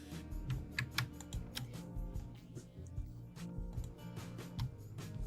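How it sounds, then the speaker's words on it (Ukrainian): Computer keyboard keys, including the Ctrl key, are pressed in a steady run of close, quiet clicks and taps over a low hum. "Ми натиснемо Ctrl, щоб вибрати обидва."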